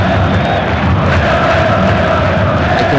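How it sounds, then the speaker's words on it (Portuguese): Atlético-MG fans sing loudly and continuously in the stadium at the Campeonato Mineiro final, a dense wall of crowd voices with no break. "Cantando a torcida do Atlético"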